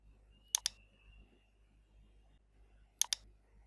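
Two crisp double mouse clicks sound close and quiet, roughly two and a half seconds apart, over a faint low hum in a quiet room.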